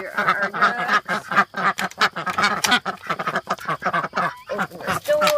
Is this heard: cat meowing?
no